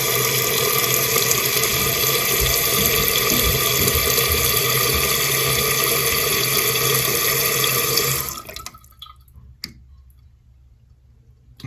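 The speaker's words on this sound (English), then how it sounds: "if you listen closely, you'll hear how solid this one shuts off in the end" A newly replaced toilet fill valve refilling the tank with a loud steady rush of water, then shutting off abruptly and cleanly, leaving near silence with a faint click, no talking.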